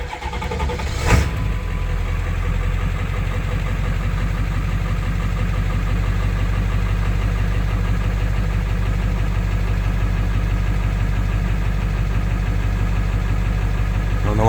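A Ford 7.3 Powerstroke diesel truck engine cranks and fires with a brief burst, then settles into a steady, loud, rumbling idle with a faint knocking clatter, close by and with no talk.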